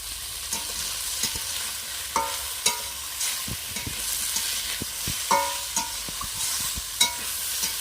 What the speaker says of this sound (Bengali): আলু নিম বেগুন ভাজা হয়ে গেল